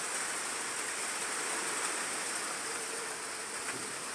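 Steady rain falls on a stormy day, a continuous close hiss of drops on surfaces with no voices and no breaks.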